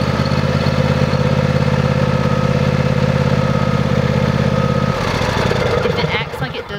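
A tractor engine idles steadily with a loud, low drone that stops abruptly partway through, leaving a rougher mechanical rattle and a brief flutter at the end.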